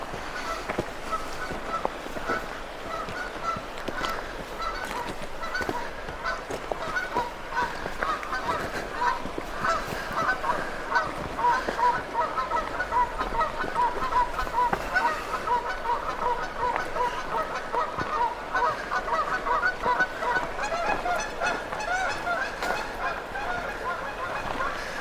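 Geese honk repeatedly near their nests in the Sierra Nevada foothills, a scattered chorus of calls at moderate distance that swells in the middle and persists over a steady outdoor background.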